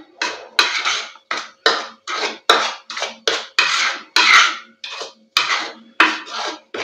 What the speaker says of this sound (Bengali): এই চানা ডাল আর চিনি আর গুঁড়ো দুধ সব একসঙ্গে মিশিয়ে নিলাম।